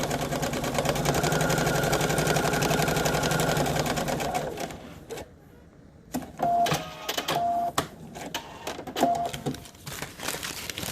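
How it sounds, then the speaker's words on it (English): Sewing machine stitching a seam through micro fleece laid over a coffee filter, a steady close whirring run for several seconds, then a pause and several short stop-start bursts of stitching. "you put the coffee filter underneath and do your seam"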